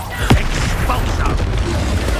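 Expulso explosion spell in the Hogwarts Legacy video game: a sharp booming blast near the start, followed by a rumbling, crackling tail under a steady low roar.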